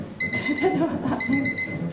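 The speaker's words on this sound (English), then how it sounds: "the alarm wakes Julie early to follow Anita's exercise routine" A morning alarm clock rings in two steady electronic bursts of high beeping, loud and close, with faint talk and movement underneath.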